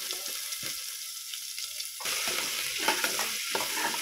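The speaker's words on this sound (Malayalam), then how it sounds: "നമ്മൾ എണ്ണ ചൂടായിട്ടുണ്ട്. അതിലേക്ക് വെളുത്തുള്ളി ഇഞ്ചി" Garlic and ginger hit hot coconut oil in a pan for ghee rice, setting off a steady close sizzle that swells into a louder, busier crackle about halfway through as they are stirred, with no talking.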